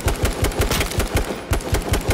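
Rapid automatic gunfire in the battle-royale video game H1Z1, a steady burst of loud, evenly spaced shots with no talking over it.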